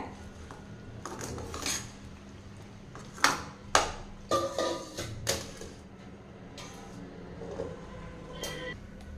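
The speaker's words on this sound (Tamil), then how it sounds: "நம்ம பொறிச்சு எடுத்துருக்கிற பூந்தி வந்து சேர்த்திக்கலாங்க சேர்த்துட்டு கலந்து விட்டுடலாங்க" Fried boondi is stirred into warm sugar syrup with a spoon, giving a run of clattering metallic knocks and scrapes against the vessel over a low steady background hum.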